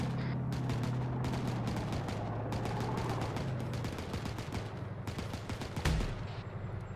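Artillery firing in a military video game, rapid bursts of gunfire and booming shots rolling continuously, loud and dense, with a heavier blast near the end.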